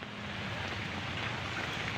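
Heavy rain with strong wind in Bandung, West Java, a steady dense wash of downpour hitting surfaces, loud and continuous with no voices.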